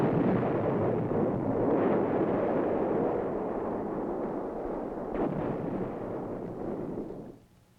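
Artillery fire from a 175-millimeter self-propelled long-range gun and a 155-millimeter howitzer, a sustained deep rumbling roar of blasts rolling together, loud and dense, easing off and cutting out near the end.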